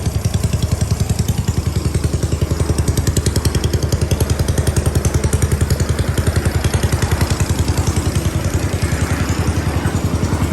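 Rebuilt motorcycle engine fitted with a new cylinder kit on the original head, running steadily at a fast idle while breaking in, with an even, rapid thumping exhaust pulse throughout.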